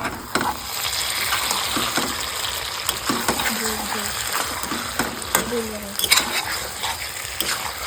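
Mutton bhuna is stirred and fried in oil in a pan, giving a continuous sizzle broken by scraping spoon strokes and clinks, with a voice briefly heard in the middle.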